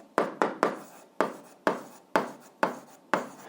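Pen or chalk strokes writing out algebra equations for an 8th-grade exercise, eight distinct scratchy strokes in an uneven rhythm, close and fairly quiet with no talking.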